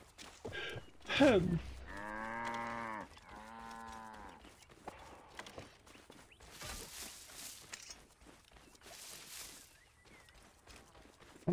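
A cow in the video game Assassin's Creed Origins moos twice in long, low, drawn-out calls, with scattered clicks, thumps and brief noise bursts around it.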